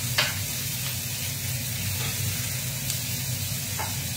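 Onion sizzling in a hot pan for a bison breakfast stir-fry with soy sauce, a steady close hiss of frying with a few faint clicks of utensils, no talking.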